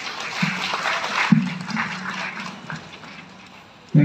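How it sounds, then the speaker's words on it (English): Applause at a school centenary celebration, a continuous wash of hand clapping from the audience under a low tonal hum, fading slightly toward the end. "Round of applause."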